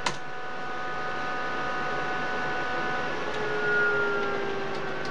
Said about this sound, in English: hopefully you can actually hear the fan kicking in